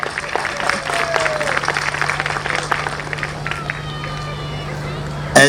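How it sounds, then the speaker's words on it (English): Crowd at an outdoor Krishna temple ground-breaking ceremony claps for the organizing team, a sustained wash of applause mixed with crowd murmur over a steady low hum, ending in a sudden loud bump. "Give them a big round of applause"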